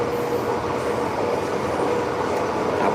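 A Hong Kong MTR subway train runs with a steady, loud rumble and rattling wheel noise, continuous throughout with no talking.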